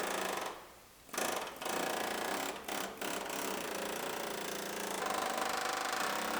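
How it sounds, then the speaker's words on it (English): A pneumatic air chisel trims the body panel of a rebuilt GMC Terrain around old structural Bondo, hammering loudly in rapid bursts broken by short pauses, then running steadily to the end. "So we'll do a little more trimming with our pneumatic can opener."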